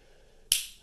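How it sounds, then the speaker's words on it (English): One sharp finger snap rings out alone, close and crisp, with a short decay into quiet room tone. "Sorry to keep snapping my fingers."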